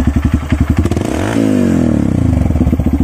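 A Honda CRF 150 motorcycle fitted with a BRT Juken 5 ECU idles close by with a fast, choppy putter, then revs up smoothly with a rising pitch before settling back into the rapid idle beat.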